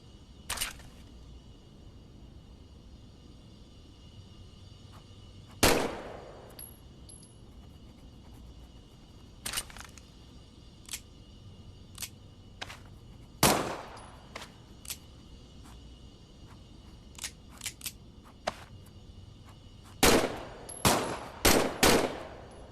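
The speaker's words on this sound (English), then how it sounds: "Just to be sure, why don't you test fire your weapon?" Single test shots from a weapon in the VR game Medal of Honor crack out one at a time at irregular intervals over a quiet background, ending in a quick cluster of several shots.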